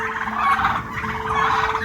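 Roosters calling steadily throughout, a busy mix of clucks and gobbling-like calls close by, with a constant hum underneath.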